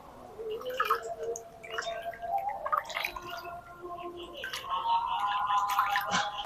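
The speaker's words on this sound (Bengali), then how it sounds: "এরকম গোটা ভালো করে ধুয়ে নিচ্ছি" Two freshly picked whole eggplants washed by hand in water, giving close, irregular splashing, dripping and gurgling that swells toward the end, with no talk.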